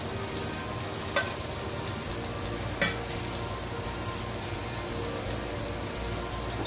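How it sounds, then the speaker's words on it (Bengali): Spices such as turmeric, coriander and cumin powder sautéing in a pan for a Bengali catfish curry, a steady close frying sizzle throughout with a couple of brief clinks, no talking. "এবার মশলাটা কষানো হয়ে গেছে"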